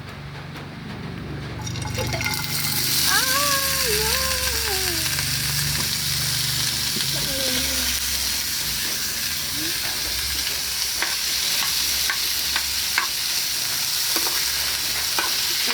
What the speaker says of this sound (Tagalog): Haluin lang natin guys hanggat mag-crispy.